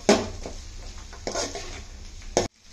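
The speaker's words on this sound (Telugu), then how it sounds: "కొంచెం అంత కరివేపాకు కూడా వేసుకొని ఇవన్నీ కలిసేలాగా అయితే ఒకసారి కలుపుకుందాం" A spoon scrapes and clatters in a pan while fried chicken, egg and curry leaves are mixed for street-style chicken fried rice, giving a few close, sharp stirring strokes with light sizzling between them.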